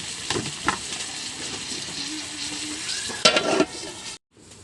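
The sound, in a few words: seasoning sizzling as it fries in a pan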